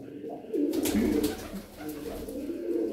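Domestic pigeons coo close by in low, throaty bursts, with someone talking over them throughout.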